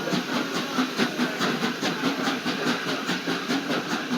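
Strasburg Rail Road train with steam locomotive No. 90 rolling steadily past farmland, heard from on board as a continuous rumbling ride with a repeating clickety-clack of wheels over rail joints and a soft hiss, with no voices.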